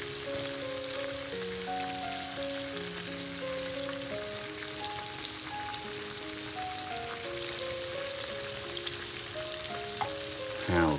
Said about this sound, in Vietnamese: Hào chiên giòn ha các bạn.